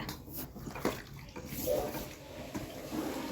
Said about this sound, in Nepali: बोतलको पानी यसमा हाल